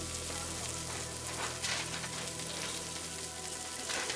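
Romanesco sautéing in olive oil in a pan with almonds and capers, giving a steady close sizzle and crackle with no talk over it.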